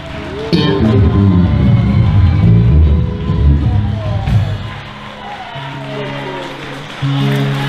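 Concert audience at the Bozar in Brussels applauding during a tribute concert, a loud burst of clapping and crowd noise that fades, with music and voices running underneath.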